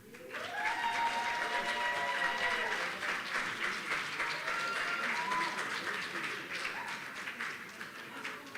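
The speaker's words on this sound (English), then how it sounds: "let's give a big round of applause to Virginia native" A conference audience applauds as a Virginia speaker is welcomed to the stage. The dense, even clapping fills the room, loud and sustained, and fades slightly toward the end with a few faint voices underneath.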